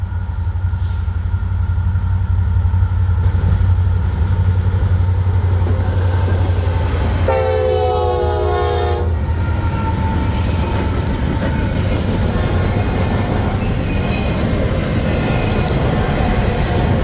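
A Norfolk Southern freight train led by an SD60 and two AC44C6M locomotives rumbles past at track speed, loud and continuous, with wheels clattering over rails and a brief horn-like tone partway through.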